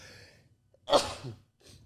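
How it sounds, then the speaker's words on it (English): A single short sneeze bursts out after a quiet intake of breath, followed by a faint exhale. "I got to sneeze"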